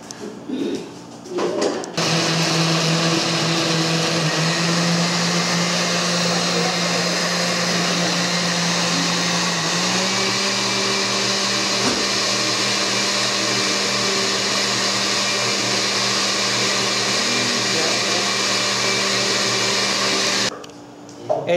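A blender mixing flan ingredients runs continuously at a steady loud whir for about twenty seconds, its pitch shifting slightly partway through, then stops.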